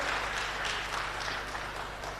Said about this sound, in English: Let's give her and her team a round of applause.